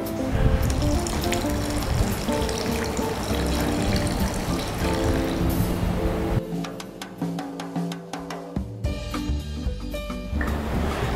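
Chicken chasseur sauce pours steadily with a wet splashing rush, then shifts to softer dribbling and trickling near the end.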